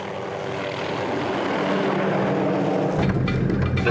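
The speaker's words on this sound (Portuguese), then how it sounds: "Eles chamam Alan e o helicóptero de volta" A helicopter used in an antelope capture at Ol Pejeta flies close overhead, its loud engine and rotor roar swelling sharply near the end.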